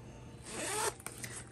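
Zipper on a handmade sewn pouch pulled in one smooth close stroke, followed by a couple of small clicks, near and quiet with no talk.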